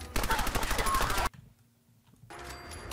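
Rapid automatic gunfire from a submachine gun in Fallout 4, a dense loud burst of shots that cuts off abruptly, then a quiet pause before another quieter stretch of rattling fire.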